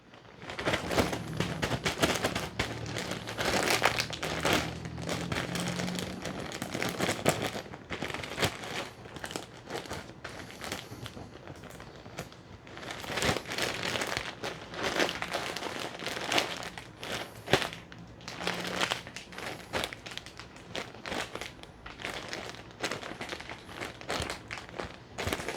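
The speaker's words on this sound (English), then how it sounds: "I'm going to go ahead and add a little bit more substrate and compact it down like the first bag" A plastic ziplock bag of mushroom substrate crinkles and rustles as it is pressed and compacted by hand, in repeated close, busy bursts with short pauses and no talking.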